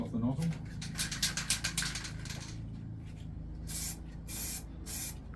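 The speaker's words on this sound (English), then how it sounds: "Alright, there's the old rattle can, got a good shake." Rattle can spray paint hisses in several bursts, loud and close, after the can is shaken; someone talks at the start, and later come three separate hissing sprays with pauses between them while stencilling a bowling queen design.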